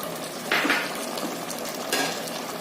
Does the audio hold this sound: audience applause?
no